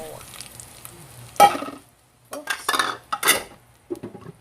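Mung beans tipped into a cooking pot: a sharp clatter and pour of dry beans against metal, then scraping and clinking of a utensil in short bursts, close and fairly loud.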